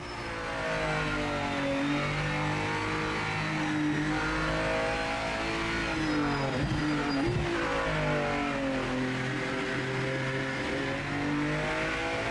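A racing car engine in the video game Project Motor Racing revs and shifts, pitch climbing and dropping through several gears, loud and continuous with a brief tire squeal midway.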